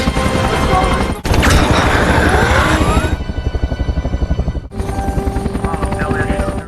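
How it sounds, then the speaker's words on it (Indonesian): A helicopter's rotor thumps loudly and continuously in a film, its rhythmic chopping dominating throughout with sharp bursts and a brief drop in the middle. "Setelah itu helikopter pun tiba."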